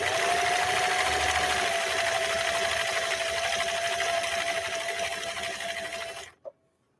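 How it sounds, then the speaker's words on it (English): A 1960 CL21A sewing machine runs a 3-point zigzag stitch in one steady, close, loud whir for about six seconds, then stops abruptly with a single faint click before silence. "I'm going to go ahead and lay down this next stitch, which is going to be stitch number 3 on cam A."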